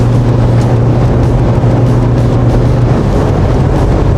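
A tuned Isuzu MU-X in sixth gear cruises at around 200 km/h, its engine a loud, steady low drone mixed with road and wind roar inside the cabin, with no talk.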